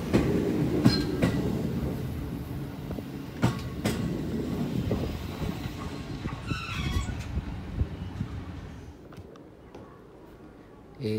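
A Gotemba Line train in Japan rolls into a station with a low rumble and rattling wheels, a brief metallic squeal of brakes partway through as it slows.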